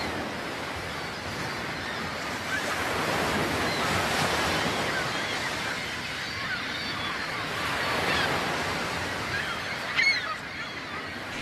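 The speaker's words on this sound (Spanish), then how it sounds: "El revuelo de las gaviotas avisa a los peregrinos de la proximidad de su meta." Gulls call over crashing surf on the sea coast at Finisterre, the surf's broad wash swelling and fading throughout while a few faint bird cries break through near the end.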